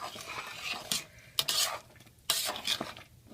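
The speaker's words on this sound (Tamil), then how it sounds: "இப்போ வந்து ஒரு கால் கப் வந்து நான் நெய் ஊற்றிக்கிறேன். நெய்யில் கொஞ்சம் நேரம் வேகணும்." Chicken haleem being stirred in ghee in a pot at home: thick, wet scraping strokes of a spoon come in several loud bursts over a soft background sizzle, with no talk.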